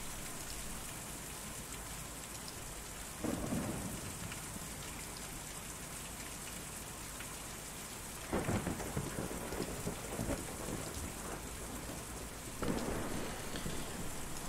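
Steady heavy rain from the video game Kentucky Route Zero fills the scene while three low rumbles of thunder roll in at intervals, each swelling briefly above the downpour.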